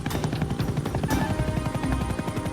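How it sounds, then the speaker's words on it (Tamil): Cartoon helicopter approaching, its rotor chopping in a fast steady pulse under busy music and effects, loud and constant with a crash-like accent midway. "அவன் பின்னாடி ஹெலிகாப்டர்ல வந்துகிட்டு இருக்கானா"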